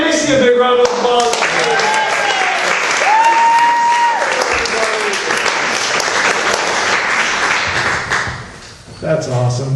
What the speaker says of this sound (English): Give Macy a big round of applause.